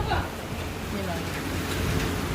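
Steady rain falls outdoors during a storm, a constant close hiss of drops with low rumbling underneath, lasting the full couple of seconds.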